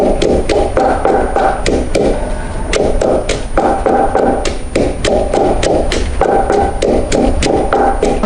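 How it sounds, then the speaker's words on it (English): Pepper pounded in a mortar and pestle for Nigerian afang soup, loud close thuds in a steady rhythm of roughly two blows per second, repeating throughout with no talking. "we use our mortar and pestle to pound our things"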